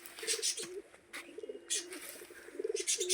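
Pigeons cooing near a rooftop loft, soft repeated throaty coos in short bursts, with faint rustling and occasional wing flutters around them.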